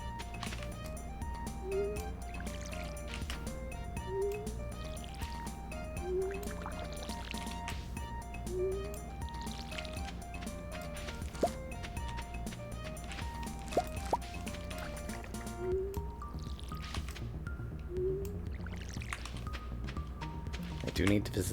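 Watering crops with a watering can in a farming video game: a steady run of soft splashing pours repeats at regular intervals over a looping musical background.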